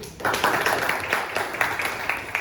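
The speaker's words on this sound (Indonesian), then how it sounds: "Tepuk tangan lagi" Brief applause from a school class, a scattering of claps at moderate volume with individual hand strikes standing out, lasting only a couple of seconds.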